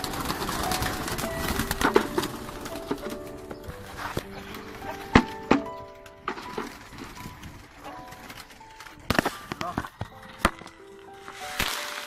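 Pigeons in a coop with chickens nearby coo softly amid scattered clattering and knocking sounds, while someone talks intermittently close by.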